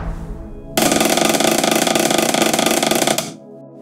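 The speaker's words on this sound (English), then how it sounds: "this machine features a ferrite-assisted synchronous reluctance motor" An Atlas Copco GA VSD compressor with a ferrite-assisted synchronous reluctance motor starts abruptly into a loud, dense mechanical whir and rattle, holds steady for about two and a half seconds, then cuts off.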